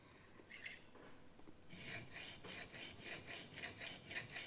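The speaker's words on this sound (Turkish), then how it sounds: "Şu şekilde ileri geri yaparak bıçağın ağzını açıyoruz." Knife blade stroked back and forth on a whetstone, a few scattered scrapes at first, then a regular run of rasping strokes, close and fairly quiet, with no voices.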